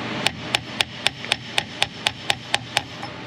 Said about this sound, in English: so let's hammer that down.